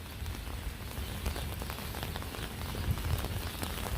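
Rain falls steadily on surfaces outdoors in Philadelphia, making a dense, continuous patter with scattered droplet splashes and no voices.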